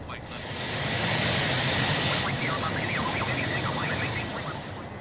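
A steady, loud jet engine roar from a KwikFlight B2 Spirit climbing after takeoff in Microsoft Flight Simulator, a broad continuous rumble with faint cockpit warning-like tones in the upper range.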